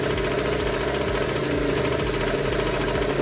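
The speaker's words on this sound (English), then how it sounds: "We'll rev it a little." A modified scooter engine runs steadily near the microphone, a continuous buzzing drone with little change in pitch. It sounds more like a fast idle than sharp revving.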